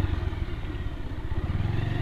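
An old Bajaj Pulsar 150 BS3 motorcycle engine running with a steady, pulsing mid-range throb, close and continuous while riding.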